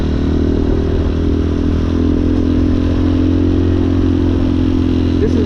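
A street legal dirt bike rides through a city neighborhood at night, its steady engine drone close and continuous with rattling clatter throughout, no talking.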